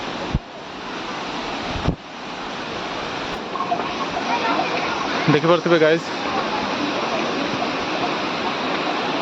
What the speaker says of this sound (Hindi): पंचलिंगेश्वर झरणा